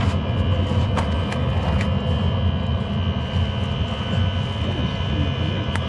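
Diesel heater running loudly, its exhaust giving off a steady, roaring jet-engine-like whine with strong low rumble, constant and close throughout.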